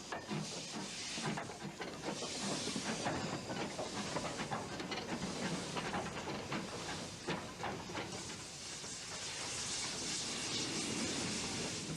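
Steam hiss from a 2-8-4 tank locomotive arriving with a mixed train on the Corgo narrow-gauge line in the valley, a continuous loud rushing hiss with faint clicking wheels, no voices.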